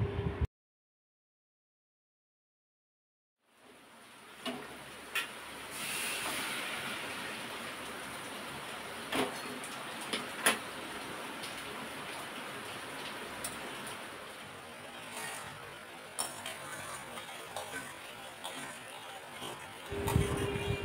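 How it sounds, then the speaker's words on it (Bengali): Steady rain hisses continuously outdoors after a short silent gap, a dense wash of falling drops with a few sharper spatters standing out. "বৃষ্টি হচ্ছে"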